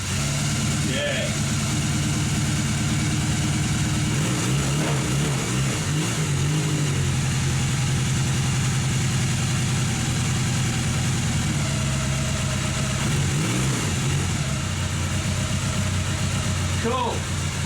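A Honda CB250 motorcycle engine idling after being revived from stale fuel, with the choke being eased down, a steady close-up throb running throughout while someone talks over it.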